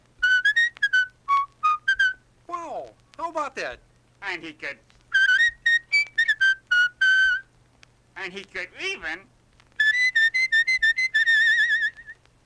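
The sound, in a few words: person whistling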